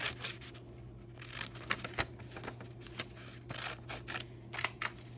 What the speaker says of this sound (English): I'm going to take my scissors and I'm going to cut out this picture